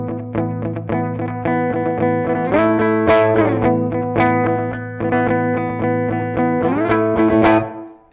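Electric guitar plays a sustained chordal passage through a reverb pedal set to a low mix, the dry notes punchy and up front with only a slight ambient tail, loud and alone.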